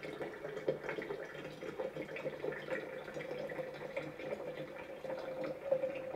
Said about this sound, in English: fill the water reservoir up